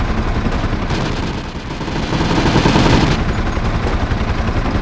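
Continuous dense gunfire in the Project Reality game during an infantry convoy, a loud unbroken rattle of overlapping automatic bursts that swells slightly toward the middle.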